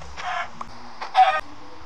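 Minecraft chickens give two short, soft clucks in a survival game world, close and brief against quiet game background noise.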